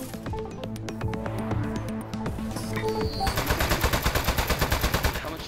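A desk-mounted gun in Aperture Desk Job fires rapid rhythmic shots over a tonal, humming game backdrop, growing denser and louder toward the end.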